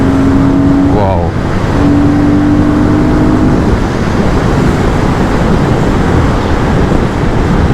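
A Royal Enfield Guerrilla 450 motorcycle engine drones loudly and continuously during a long touring ride, with a brief rising rev near the start, all under heavy, constant wind roar.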